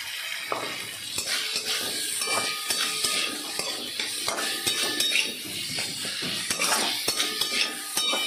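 Potatoes are tipped into a pan for ghugni and stirred, giving close metal spoon clinks and scrapes against the pan over a soft sizzle, in a quick uneven rhythm.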